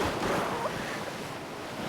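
Rushing river water in an animated fairy tale surges loudly and steadily, a broad close roar of current and spray with no speech.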